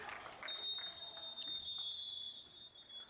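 A long, high electronic buzzer tone sounds and holds for a few seconds at a junior national basketball championship game, with faint crowd noise and voices underneath.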